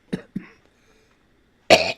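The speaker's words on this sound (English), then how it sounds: "I didn't mean to cough." A man on a live radio show in a quiet studio gives two short, close coughs, pauses in silence, then lets out a louder, harsher cough.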